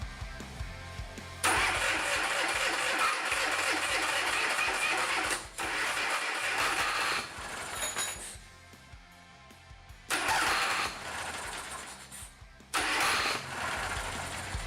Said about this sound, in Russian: Подкачал топливо и попробовал запустить двигатель.